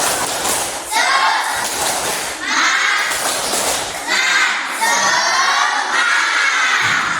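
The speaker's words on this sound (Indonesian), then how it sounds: "Kita tepuk semangat." A school class of children doing the 'tepuk semangat' clap-and-shout cheer: loud, close bursts of rhythmic clapping and unison shouting that repeat in a pattern about every second.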